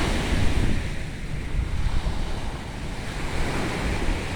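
Ocean surf rolls in at Pantai Indah Pohe beach in Gorontalo, a loud continuous roar of breaking waves mixed with strong wind buffeting the microphone, no speech.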